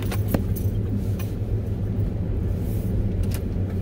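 A car drives around Santa Fe, New Mexico, with a steady low engine and road rumble heard from inside the cabin and a few faint clicks, without speech.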